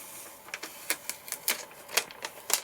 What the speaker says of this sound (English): we can now just peel this off without peeling up the orange vinyl